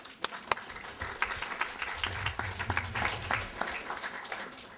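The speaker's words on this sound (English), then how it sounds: "So I'd like to do another round of applause for our athletes." An audience applauds athletes at a launch event at the United Nations headquarters, a moderate spread of clapping that holds steady for several seconds with no talking over it.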